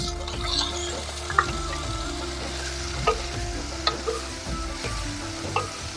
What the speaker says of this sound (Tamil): வெங்காயம் நல்லா வதங்கி வந்துருச்சு. இப்போ இது கூட கட் பண்ணி வச்சிருக்கிற தக்காளியை சேர்த்துக்கலாம்.